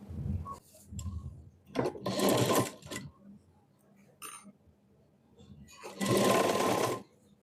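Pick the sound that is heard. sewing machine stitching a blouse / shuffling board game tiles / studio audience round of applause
sewing machine stitching a blouse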